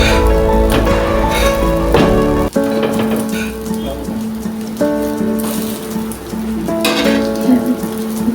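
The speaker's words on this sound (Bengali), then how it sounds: "দু পিঠ লাল করে ভেজে নেব।" Kutli tikki patties fry in hot mustard oil on a tawa, giving a close, steady crackling sizzle with bright spattering bursts, a sharp clatter near the start and a faint tonal hum beneath.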